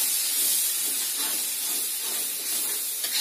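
Ingredients sauté in a hot pan while cooking chicken feet, producing a steady, close hiss of sizzling oil that stays fairly even for a few seconds, with no talk.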